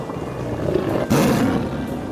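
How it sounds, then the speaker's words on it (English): A tiger lets out a loud, deep roar that swells suddenly over a rumbling background and holds for about a second before easing off. "And there's a tiger."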